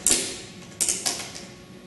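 A strap on a snowmobile ski and snowboard rack being tightened gives a few sharp ratcheting clicks: one at the start, then two more close together, each fading quickly in an otherwise quiet setting.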